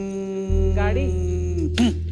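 A voice imitates a mosquito with a steady, nasal, high-pitched buzz that warbles slightly and rises near the end, close to the listener.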